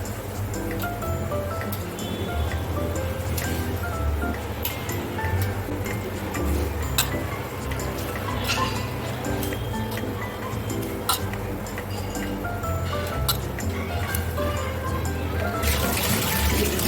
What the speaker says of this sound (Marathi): आपल्या पाण्याला आता उकळी आलेली आहे. आपण त्याच्यामध्ये हा तांदूळ